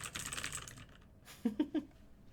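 A few sharp mechanical keyboard keystrokes, loud and close, tapped in a short uneven cluster after a stretch of quieter background noise.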